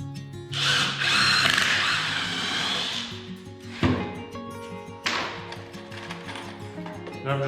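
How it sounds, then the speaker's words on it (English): A power drill bores pilot holes into wooden posts for screws while building a baby bed prop, whining loudly in a long sustained run, then a short burst, and a third run after a brief pause. "I'm just drilling pilot holes to make sure the screws go where I want them to go."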